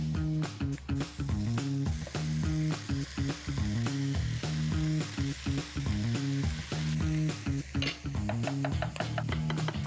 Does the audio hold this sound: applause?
no